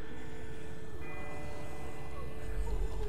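A distant bell rings in The Walking Dead video game, its steady tones sustained and faint beneath a low rumbling ambience for the whole stretch.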